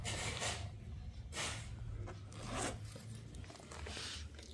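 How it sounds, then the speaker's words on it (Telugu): The back zipper of a handbag being pulled open, a steady, scratchy zipping with rubbing and crinkling handling sounds, close and fairly quiet. "back zip"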